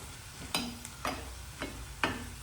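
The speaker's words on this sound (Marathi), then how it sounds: "मसाल्याला चांगलं परतून घेऊया आपण" Onions with red chili powder, coriander powder and homemade masala sautéed in oil for chicken gravy, a quiet low sizzle broken by four evenly spaced scraping stirs close by.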